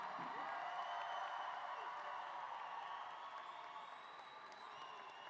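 A commencement audience applauds and cheers the graduating class of 2024, a broad, steady wash of clapping with scattered whoops that carries on throughout and eases off slightly toward the end.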